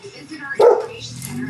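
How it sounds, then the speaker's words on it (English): A single short dog bark sounds at moderate distance, with faint room noise and muffled talk around it. "don't know what the dog's barking at."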